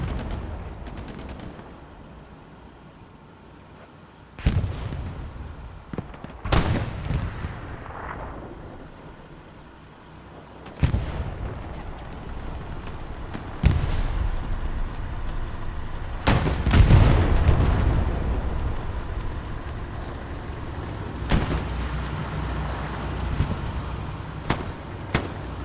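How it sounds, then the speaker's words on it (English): Cannon blasts from an artillery battery in a video game boom at irregular intervals, each one a sharp, heavy crack with a rolling tail, over a steady low rumble. "We're right on top of artillery battery."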